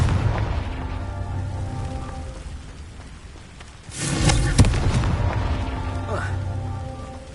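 Confringo blasting curse cast in Hogwarts Legacy, a sudden loud explosive burst midway that rumbles for about a second, rising over ongoing low game ambience and fading into a dull roar.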